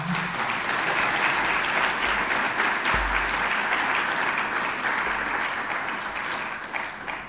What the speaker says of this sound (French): Je pense que nos intervenants méritent quand même un applaudissement.